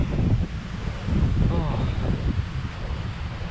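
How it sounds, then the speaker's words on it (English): Gusty wind buffets the microphone on a summer walk, a loud, low rumbling roar that surges and eases over a few seconds. It is close and continuous, with no other clear sounds above it. "Windier than what I thought"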